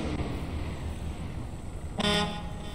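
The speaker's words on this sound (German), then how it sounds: "Hupe funktioniert." Fire truck horn in the video game Notruf 112 Die Feuerwehr Simulation 2, one short loud blast rising above a steady engine rumble.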